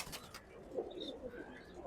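Pigeons coo softly in a loft, a faint, brief murmur of low calls over quiet background noise.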